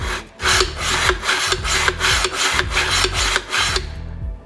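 The action of a SAS-12 shotgun is worked back and forth with valve grinding compound inside, giving gritty rasping strokes in a fast, regular rhythm. The strokes are loud and close, with about a dozen of them before stopping.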